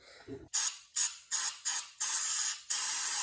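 Carb cleaner is sprayed into a throttle body during basic tune-up work in several close, loud hissing bursts of uneven length, with short gaps between them and no talking.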